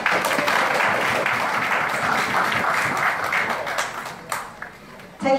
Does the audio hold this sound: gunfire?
no